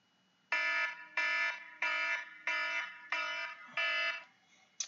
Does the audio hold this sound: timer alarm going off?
yes